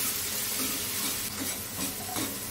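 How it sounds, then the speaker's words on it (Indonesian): Garlic frying in a pan, a steady close sizzle and hiss running throughout with faint stirring scrapes, no talking. "Ini aku goreng bawang putih ya."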